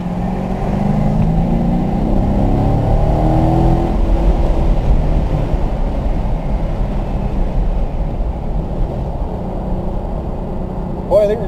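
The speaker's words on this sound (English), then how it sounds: "that throttle is awful responsive" A motor revs as the throttle is opened, a loud steady roar with rising and falling pitch that fills the whole span, then settles into a lower droning whir.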